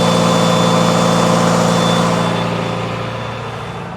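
A diesel engine on a rescue service truck runs with a dense, steady rumble close by, and the sound gradually eases and drops in level toward the end.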